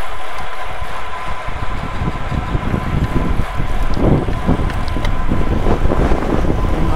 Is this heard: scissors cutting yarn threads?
no